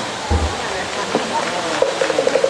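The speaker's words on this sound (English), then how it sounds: "now let's talk about the waterfall itself" A rain-fed waterfall in Hawaii roars as a steady, dense wash of falling water, while a voice speaks over it.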